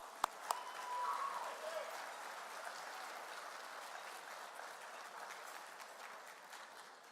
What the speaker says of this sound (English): Please, a round of applause for them.